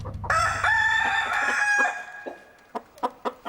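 A rooster crows loudly at close range, one drawn-out call followed by several short clucks from chickens.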